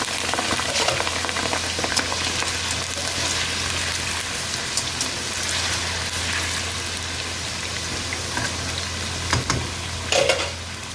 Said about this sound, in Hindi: ऑयल हमारा गर्म हो चुका है, तो इसमें डालेंगे हम जो आलू के मैंने चिप्स काटी थी वो